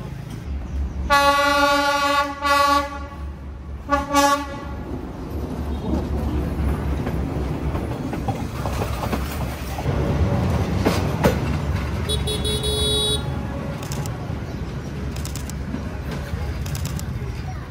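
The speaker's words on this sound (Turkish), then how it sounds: "Tren geliyor." A train pulls into a station in Vietnam, sounding two long horn blasts, the second shorter, then rumbling and clattering past at close range, with a brief high squeal and steady wheel and carriage noise.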